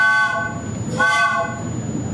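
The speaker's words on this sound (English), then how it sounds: "A whistle? That is the end of the shift." A loud, sustained harmonic whistle signalling the end of a work shift in a stage play set in Astoria, sounding continuously with a slight swell in the middle and no talk.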